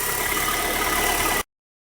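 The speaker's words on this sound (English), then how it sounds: "you can see the fans are operating, both of them" The radiator and AC cooling fans of a Honda CR-V whir as a steady, loud broadband rush beside the running engine, then stop abruptly.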